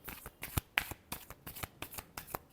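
Tarot cards are shuffled in quick, soft riffling and tapping bursts, a rapid rhythmic series of close, quiet flicks.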